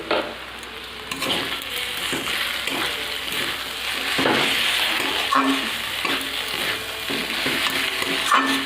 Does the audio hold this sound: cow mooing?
no